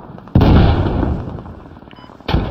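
Heavy gunfire in a multiplayer shooter video game, a sudden loud burst of booming shots that rolls into dense sustained rumble, then a second sharp blast near the end, with no voices.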